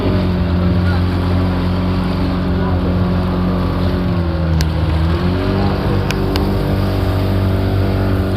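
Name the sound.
motorboat engine running on a boat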